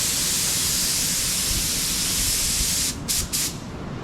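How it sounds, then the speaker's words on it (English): A DeVilbiss FLG4 spray gun hisses steadily as it sprays paint, a continuous close airy spray that cuts out briefly near the end and then resumes in short bursts. "you're spraying at an angle too"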